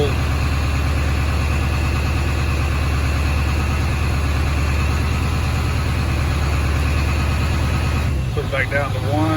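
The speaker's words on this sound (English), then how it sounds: "It's supposed to be 1200 RPM idle up" A Ford 7.3 diesel engine idles steadily at a raised speed, a continuous even rumble with a tonal drone, changing abruptly near the end as something shifts.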